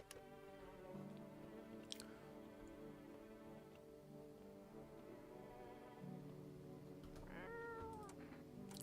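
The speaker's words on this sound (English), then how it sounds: "Feed the cat some canned food." In the horror game No, I'm Not Human, a cat eats canned food with faint wet chewing under a steady droning game ambience, then gives a short meow near the end; no talking.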